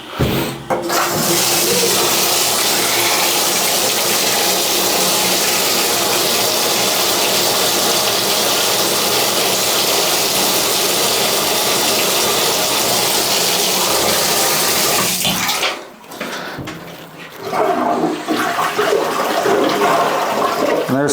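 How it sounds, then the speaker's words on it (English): A toilet flushes a second time, a loud, steady rush of water for about fifteen seconds that cuts off sharply, followed by softer refilling and trickling. "There's flush number 2."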